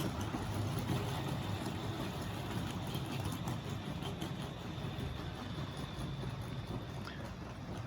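A Tri-ang class 31 model locomotive fitted with an Airfix 5-pole motor runs on a vintage Super 4 track while pulling a long train of wagons, a steady, quiet motor whir with rail rumble and faint clicking.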